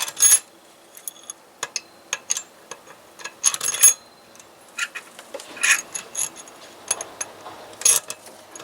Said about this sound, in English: So we'll go ahead and install the bolts.